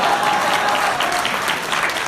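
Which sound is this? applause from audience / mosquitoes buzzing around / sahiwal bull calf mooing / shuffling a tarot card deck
applause from audience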